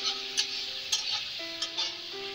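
A spice mixture with turmeric, salt and chilli powder sautéed in a pan: a steady hissing sizzle with several scraping stirs, plus a faint tonal hum underneath.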